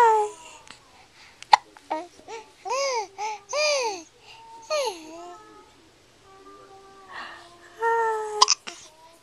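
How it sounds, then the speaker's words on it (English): A baby girl hiccups and babbles at close range, with short tonal vocal bursts repeated through the stretch, a couple of sharp catches, and quiet moments between them. "Hiccups, hiccups."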